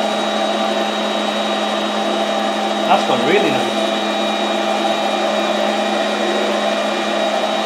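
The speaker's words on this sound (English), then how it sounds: "Control on the vacuum cleaner so we can just shut it up a little bit, but it's still pulling vacuum." A vacuum cleaner runs at reduced speed while vinyl is fitted to the lower dash of a Land Rover Defender, giving a steady constant drone throughout, with a brief spoken remark over it.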